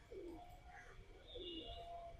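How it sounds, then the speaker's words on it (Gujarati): Pigeons perched at Sudama temple in Sudamapuri coo softly in two or three low, rolling calls over a quiet outdoor background, with no one speaking. "કબૂતર બધા બેઠા છે"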